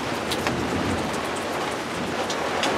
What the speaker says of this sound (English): That's some serious thunder going on.